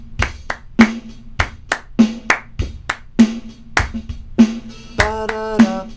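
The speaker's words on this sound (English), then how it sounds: "clap the rhythm" Sharp hand claps beat out a syncopated rhythm, about a dozen close, loud claps in uneven groupings, with a brief strummed guitar chord ringing near the end.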